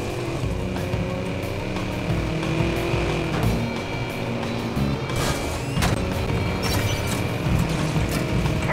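A car in the Watch Dogs video game revs and accelerates hard to ram another car, a steady loud engine roar with brief tire and impact bursts.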